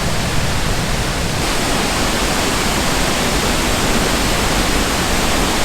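Haew Suwat waterfall in full, powerful flow, its broad hissing roar loud and close and unbroken throughout, with no voices heard.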